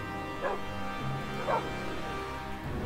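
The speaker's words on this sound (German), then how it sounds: "Ein Hund, der nicht mehr so ganz bei der Laune ist." A dog in the Minecraft video game gives two short whimpering yips about a second apart, moderately loud over a steady droning background.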